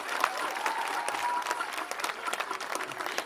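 A crowd applauding and cheering at the Limerick All-Ireland champions' homecoming in Doon, 2018; thick, continuous clapping fills the whole stretch with a few louder bursts.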